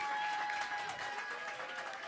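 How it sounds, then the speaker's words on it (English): Audience applause in a small cabaret room for the performer's mother, a brief steady patter of clapping with some tonal music faintly underneath, moderately distant. "Round of applause for Vicky Serafini."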